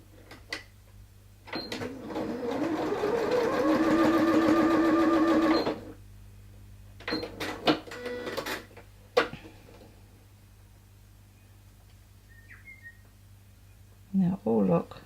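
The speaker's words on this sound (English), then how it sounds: "And I'm going to sew along there." A sewing machine stitches along folded fabric for a small hair bow, a steady whirring run of about four seconds followed by a few short bursts, with a voice talking now and then.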